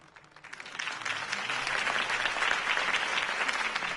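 A crowd in a Batman video game bursts into sustained applause, building quickly and holding steady with dense clapping and a few cheers mixed in.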